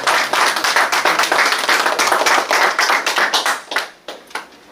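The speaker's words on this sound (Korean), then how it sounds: "한번 김준영 씨를 위해서 박수 한번 쳐주시죠." Audience clapping for Kim Jun-young at a welfare information training graduation event, steady dense applause from many hands, loud and close, tapering off near the end.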